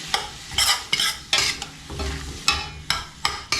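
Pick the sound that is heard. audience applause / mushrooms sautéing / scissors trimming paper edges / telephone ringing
mushrooms sautéing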